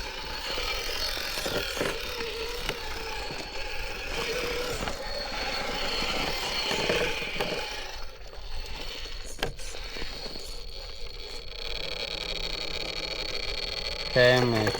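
A Furitek Python RC car with a Dynamic 380 motor runs at steady throttle, giving a rough, ratcheting mechanical whir with gear noise that continues throughout, fairly close, while someone talks over it.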